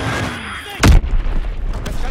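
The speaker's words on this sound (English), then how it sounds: "Fritz X bomb mission on the way." Fritz X bomb strike in the Call of Duty WW2 game: a single sharp, heavy explosive blast hits suddenly, followed by a rumbling tail and scattered crackle of gunfire and battle noise.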